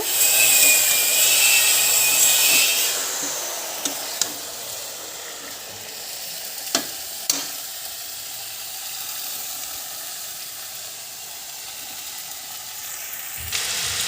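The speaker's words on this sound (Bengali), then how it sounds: "মাংসটা এভাবে আস্তে আস্তে নাড়তে নাড়তে কষা করে নেব" Country chicken meat sizzles and frays in a pan as it is slowly stirred, a steady close frying hiss with occasional scraping knocks of the utensil against the pan.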